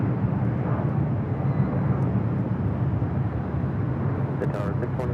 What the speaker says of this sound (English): Airbus A220 up next.